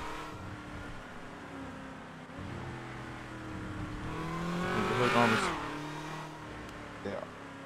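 A car driven in GTA roleplay: the engine hums, climbs and revs to a peak, with a brief tire squeal, then drops away, while voices talk faintly underneath.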